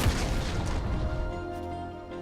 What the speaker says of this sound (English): Death's Daughter, an enormous cannon that deals tons of true damage at the beginning of the ultimate